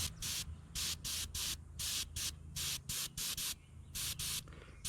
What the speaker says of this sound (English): I tilt the fish at an angle, so my airbrush is at an extreme angle, and I just give a little squirt to each of the scales I want to highlight